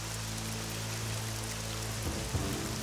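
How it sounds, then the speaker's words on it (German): Heavy rain falls in the fantasy role-playing game Nehrim, a soft, steady wash of rainfall under low sustained tones of game ambience, fairly quiet and unbroken. "es regnet kräftig"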